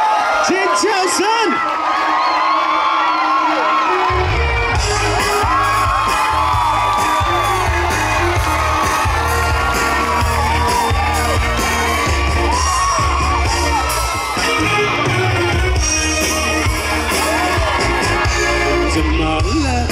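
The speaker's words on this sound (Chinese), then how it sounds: "尖叫声！" Outdoor concert crowd at a seaside fishing-harbour carnival night, whooping, cheering and screaming loudly and continuously while an announcer's voice and booming music play over it.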